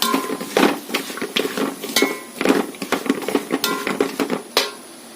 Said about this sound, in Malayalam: ഇനി നന്നായിട്ട് ഇളക്കി കൊടുക്കാം.